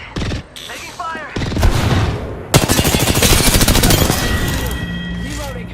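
Heavy gunfire in a shooter video game: a short burst, then loud, sustained rapid fire with booming hits that tapers slightly toward the end, with some voice in places.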